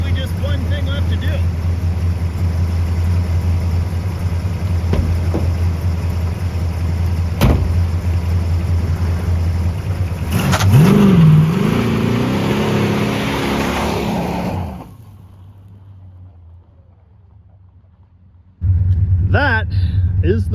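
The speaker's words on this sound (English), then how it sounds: "I can't believe I did a burnout without opening the air door." A 1970 car with triple Holley carburetors roars through a burnout, a heavy, loud engine drone with a sharp rising squeal partway through, then the noise drops to a low idle rumble before revving back up.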